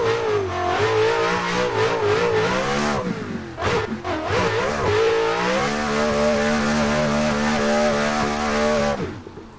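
Nissan S15 drift car engine revving hard during a test, strong harmonic engine tone climbing and falling through repeated revs, a brief stutter midway, loud and close, no talking.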